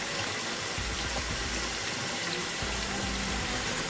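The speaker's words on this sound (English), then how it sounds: "Just adding cold water." Cold tap water gushes steadily into a sink, a loud, continuous rushing splash close by with no voices.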